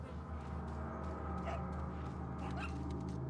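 Dog in the video game Resident Evil 4 giving short yips and whimpers at moderate distance, scattered over a low steady game-ambience hum.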